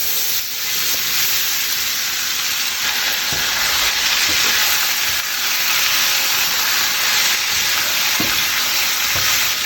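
Potatoes frying in reserved bacon grease in a pan give a steady, loud, dense sizzle and hiss, with a few soft stirring knocks and no talking.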